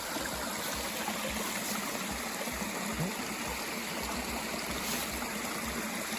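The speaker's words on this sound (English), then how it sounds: "There's a beautiful little stream" A small stream along the Appalachian Trail near a campsite flows steadily, a soft continuous trickle and gurgle heard close by with no talking.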